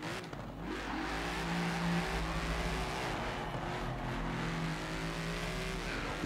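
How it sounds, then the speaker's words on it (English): A fully upgraded and tuned 2018 Ford Mustang GT, Deberti design, roars in Forza Horizon 4 with a loud, steady V8 engine drone whose pitch rises and dips as it accelerates, with no talking. "with our fourth car, we have the 2018 Ford Mustang GT"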